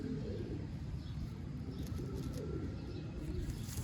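Soft pigeon cooing in the background, low and muffled, from breeding pigeons under a constant ambient rumble with faint distant chirps.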